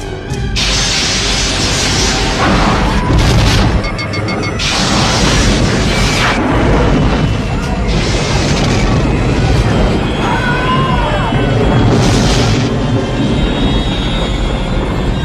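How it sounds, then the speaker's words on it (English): Star Trek phaser fire and explosions fill a starship battle scene with loud, continuous booms, crashes and energy bursts, mixed with shouted dialogue and mechanical rumble. "Lock phasers on target."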